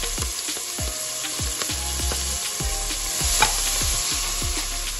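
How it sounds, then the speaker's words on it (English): Ginger, onion and garlic hiss and sizzle in a pot on a stove for a Jamaican coconut curry fish, loud and close, with repeated rhythmic scrapes and taps of a spoon stirring throughout. "I'm gonna add my ginger here. I'm gonna add my onion. And I'm gonna add my garlic."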